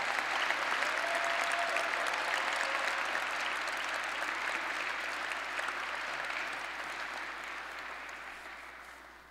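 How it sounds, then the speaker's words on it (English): A large commencement audience applauds PhD graduates in electrical and computer engineering, a broad, continuous roar of clapping that stays steady and then slowly fades over about nine seconds, with a faint low hum beneath. "Let's give a round of applause to all of our PhD graduates."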